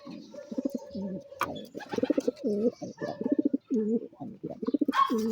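Pigeons at a breeder loft coo repeatedly in close, rhythmic bursts, with a few sharp chirps and wing flutters mixed in, fairly near and moderately loud.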